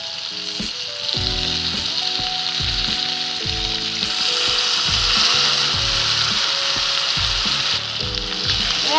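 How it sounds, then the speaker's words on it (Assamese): Pieces of eel fish fry in spiced oil in a pan, a loud steady sizzle with a bright hiss that runs for the whole stretch alone, with knocks and scrapes of stirring under it. "কুচিয়াখিনি অলপ টাইম ভাজি লৈছোঁ"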